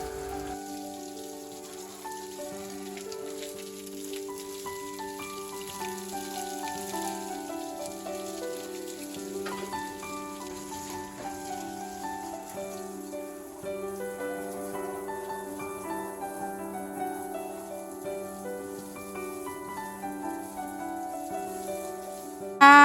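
Steady machine-pumped water sprays like rain over a mushroom-growing area, pattering throughout, mixed with a sustained tonal hum from the running pump underneath.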